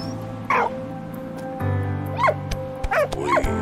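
A dog in the video game Valiant Hearts: The Great War gives several short yips and whimpering barks over a low droning game soundtrack, close and moderately loud, with no talking.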